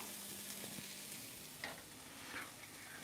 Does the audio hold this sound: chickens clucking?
no